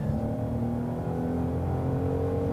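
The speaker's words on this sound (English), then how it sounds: "Definitely a lot more engine noise outside and coming through the cabin when you're in Sport and Sport Plus" A 2022 Genesis GV70 engine in Sport mode drones and revs steadily at high speed, a constant loud hum with tonal whine, heard without any talking.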